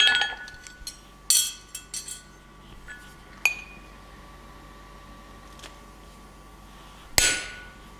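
A hammer strikes a hot chisel driven through a steel bar at a blacksmith's forge: sharp metallic clanks land singly and in a short cluster, loud and close, with quiet gaps between blows.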